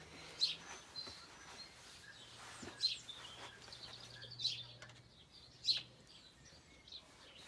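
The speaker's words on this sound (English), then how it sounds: "Noisy birds messing up my audio." Faint, short chirps of house sparrows ring out a handful of times, spaced a second or two apart over a quiet background hum.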